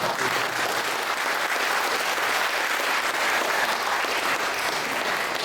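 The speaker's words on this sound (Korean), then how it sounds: "좀 일어나서 이 박수 좀 쳐줘야 되겠다." Steady, dense applause from a congregation at a church breakfast worship service, filling the room evenly from start to finish with no voices over it.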